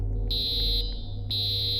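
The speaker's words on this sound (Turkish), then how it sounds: "Yangın alarmı ha." A fire alarm in a Roblox horror game blares as a steady high electronic tone, sounding for about half a second, pausing briefly, then resuming, loud and close over a low background hum.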